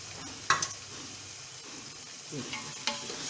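Chicken pieces sizzle and fry in a pan while cooking for Sindhi biryani, a continuous hiss with a few sharp spatters and stirring clinks close by.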